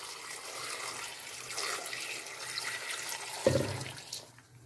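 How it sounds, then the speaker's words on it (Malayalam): Water is poured from a tap into a large pot of finely chopped tapioca, a steady gurgling stream that swells briefly near the end before tapering off. "ഇനി അതൊരു വലിയ ചരുവത്തിലാക്കിയിട്ട് ഞാൻ നെകക്ക് വെള്ളം ഒഴിക്കുകയാണ്"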